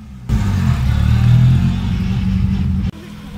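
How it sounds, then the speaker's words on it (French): A Lotus Elan 26R classic car roars close by during the Tour Auto rally. Its engine drone swells and holds strongly, then cuts off abruptly near the end. "Là, une Elan 26R."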